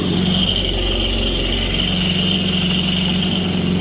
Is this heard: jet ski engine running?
yes